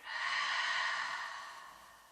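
One long, deep exhale during a morning yoga breathing exercise, close and breathy, swelling then slowly fading, heard alone.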